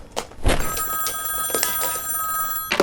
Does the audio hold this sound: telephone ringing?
yes